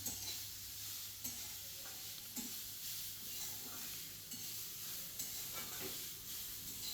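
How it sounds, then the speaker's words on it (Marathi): Carrots roasting in ghee for carrot semolina halwa, a steady close sizzle with intermittent scraping strokes of a spoon stirring the pan. "तुपामध्ये आपण गाजर भाजतो."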